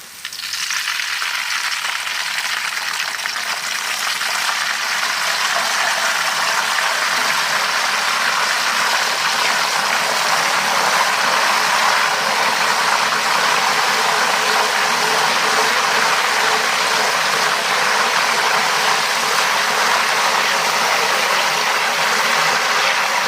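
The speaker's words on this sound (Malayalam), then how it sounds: "മഞ്ഞളും വെള്ളം ഒഴിച്ച് കൊടുക്കാം കേട്ടോ." Turmeric water splashed into banana chips frying in hot oil sets off a sudden burst of sizzling that settles into a loud, dense, continuous hiss and crackle, steady for over twenty seconds with no voices.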